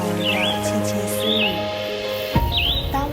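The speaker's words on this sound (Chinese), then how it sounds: "还有鸟儿的窃窃私" Birds chirping in a forest, a few short upward-sweeping calls heard fairly clearly over soft background music.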